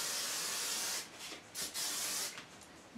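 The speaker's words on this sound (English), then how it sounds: "I'm just going to spray that layer again." A can of hairspray hisses onto a layer of hair during an updo, one sustained spray followed by several shorter bursts, close and fairly quiet.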